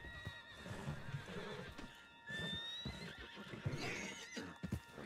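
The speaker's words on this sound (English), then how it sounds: "On John's horse?" A horse whinnies loudly and snorts amid hoofbeats and Red Dead Redemption 2 game sound effects, with a high synthetic whistle sweeping up midway.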